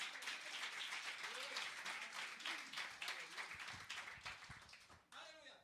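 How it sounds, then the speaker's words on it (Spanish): A church congregation claps hard and steadily for the Lord during a Spanish-language sermon, a full, continuous roar of applause that drops away just before the end as the preacher's voice returns. "Denle fuerte el aplauso al Señor."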